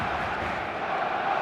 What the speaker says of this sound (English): The noise is just about reaching a crescendo here as these two sides get ready to lock horns